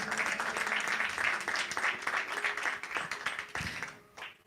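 A church congregation applauds during a sermon, a strong burst of rhythmic clapping that thins out and fades near the end.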